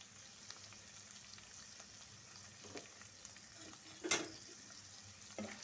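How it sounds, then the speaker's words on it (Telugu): Potatoes and sweet corn frying in a pan for a lunchbox rice dish give a faint, steady sizzle, broken by a few soft stirring clicks and one brief sharper scrape near the end. "ఆలు, స్వీట్ కార్న్ ఇవన్నిటిని ఫ్రై చేస్తాం."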